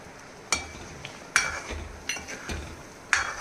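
Tamarind gravy for bitter gourd pitlai bubbles softly in a pan while a spoon scrapes and clinks against the metal several times at uneven intervals.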